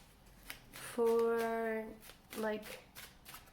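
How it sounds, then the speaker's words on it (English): Tarot cards from a Rider-Waite deck being pulled and shuffled, with crisp papery riffles and slaps coming in quick bursts close up, while a voice speaks over them. "I think I like to start with the Rider-Waite and pull 4 cards"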